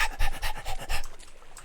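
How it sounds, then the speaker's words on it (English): A puppy dog pants in the exploration video game Pools, quick rhythmic breaths about five in a row, close and fairly loud, then fading. "I could have sworn I heard a panting puppy dog."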